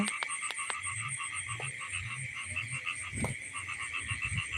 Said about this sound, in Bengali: এখানে ব্যাংক ডাকছে